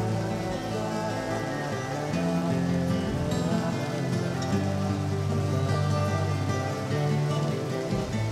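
Rain falls in Deadly Premonition, a steady close hiss of drops on surfaces, continuous and loud throughout with a low hum beneath it.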